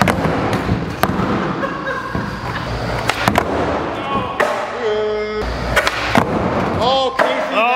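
Skateboard wheels roll on pavement, broken by several sharp clacks and slaps as boards pop and land during tricks, with people talking and shouting throughout.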